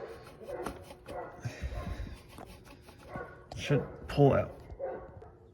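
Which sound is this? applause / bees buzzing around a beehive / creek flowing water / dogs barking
dogs barking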